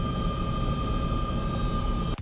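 A large helicopter filming the royal carriage, heard as a steady, loud rotor and engine drone with constant low thumping and a high whine, holding level throughout before cutting off at the very end.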